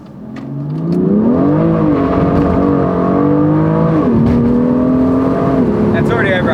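A stock car pulling hard in second gear on cheap dealership tires, its engine climbing in a loud, close, sustained roar with a brief dip as the tires slip, no voices over it.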